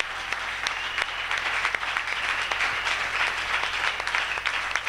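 A congregation applauding during a Thursday church service, a full, steady round of clapping from many hands filling the room, continuing throughout without a break.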